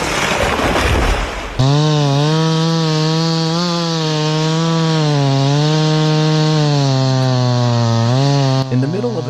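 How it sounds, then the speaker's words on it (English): A chainsaw cuts deep into the trunk of a large charred tree in a snowy forest, its engine holding a loud, steady whining drone with slight pitch wavers after a brief rough start. "Workers used chainsaws to cut deep into the trunk of a large, charred tree."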